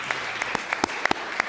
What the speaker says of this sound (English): Please join me in giving a round of applause to Kavus Ghana Basiri.